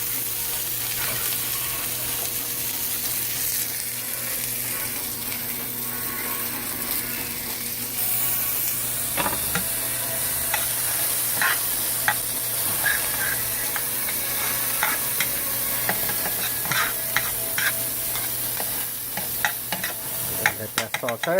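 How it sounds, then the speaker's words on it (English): Chopped onion sizzles steadily in a hot pan while cooking for pork adobo, with intermittent scraping and clicking from stirring and no talk over it. "Let that saute."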